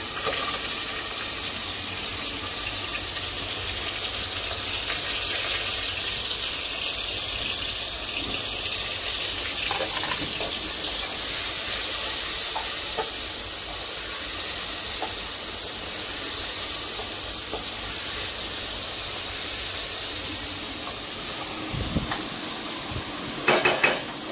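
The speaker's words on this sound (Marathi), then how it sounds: "पहिलं कांदा टाकणार फोडणीला." Onion dropped into hot oil with bay leaf for a tempering in a home kitchen, a continuous loud sizzle and steam hiss with occasional clinks of a metal pan and spoon, ending in a few sharper knocks.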